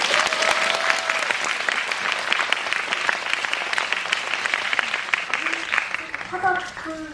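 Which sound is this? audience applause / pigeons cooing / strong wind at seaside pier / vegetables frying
audience applause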